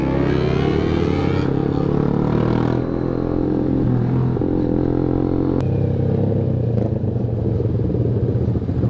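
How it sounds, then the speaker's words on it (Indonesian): Jupiter MX 135 motorcycle riding with a loud, steady engine drone and intermittent creaking clatter from the bike, close and continuous throughout. "ada bunyi krek-krekannya"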